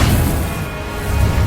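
Confringo and Incendio spell blasts in Hogwarts Legacy combat, a loud, dense burst of fiery roaring noise with heavy low rumble, sustained and close.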